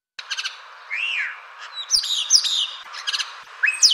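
A spotless starling (Sturnus unicolor) calls with a string of whistles, rising and falling slurred notes and buzzy chirps, close and clear against silence in short bursts.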